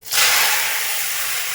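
Pasta hitting hot mustard oil in a heated wok erupts into a loud, sudden hiss that swells within a moment and then settles into a steady, slowly fading sizzle.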